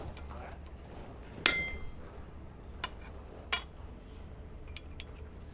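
A hammer strikes metal laid on the cutting plate of an anvil to split it, producing a few sharp ringing clanks spaced about a second apart over a low background hum.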